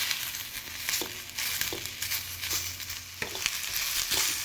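Curry leaves and chopped tomato sizzling and frying in a hot pan, a steady crackling hiss broken by a few sharp clinks and scrapes of stirring.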